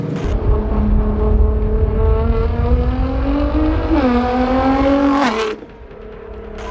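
A Nissan GT-R's engine revs up loudly and close, its pitch climbing through the gears with a clear shift near the end, then dropping off, alone without voices.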